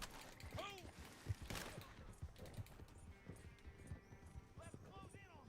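Horse hooves clip-clopping at a gallop in Red Dead Online, mixed with distant gunfire and occasional neighs, while a person talks over it.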